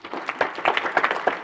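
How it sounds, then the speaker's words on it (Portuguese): A short burst of audience clapping at a talk in a Detroit mosque, with dense, uneven hand claps rising and falling for a second and a half. "Vamos dar uma grande salva de palmas para o Tom por ter feito essa pergunta"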